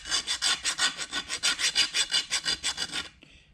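A hand file rasps across hardened, heat-treated steel in steady back-and-forth strokes, about sixteen even passes in three seconds, close and loud with no talking, then stops abruptly.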